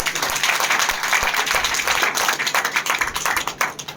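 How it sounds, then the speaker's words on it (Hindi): A large audience at a spiritual gathering breaks into loud, continuous applause, a thick crackle of many hands clapping at once that carries on without pause. "एक बार जोरदार ताली होना चाहिए"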